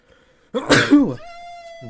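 A single sneeze bursts out close by indoors during a live gaming stream, one sharp explosive puff with a breathy tail, loud against an otherwise quiet room with a faint background hum.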